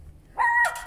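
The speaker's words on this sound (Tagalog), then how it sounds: "May dumating pang isang aso." A single short dog bark, fairly close and sharp, rings out on a quiet outing in Spain and ends within a second.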